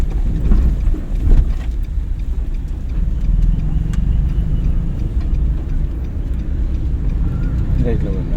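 A car engine runs steadily at low rumble during a driving lesson, continuous and close throughout, with talk over it.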